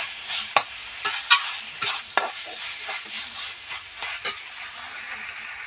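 Banana flower and prawns are stir-fried dry without water, with sharp, intermittent spatula scrapes and clacks over a low, steady sizzle.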